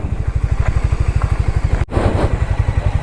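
A Harley-Davidson motorcycle on a hill road toward Yercaud, its V-twin engine thumping in a steady, close, loud rhythm with a brief dropout midway before the pulsing resumes.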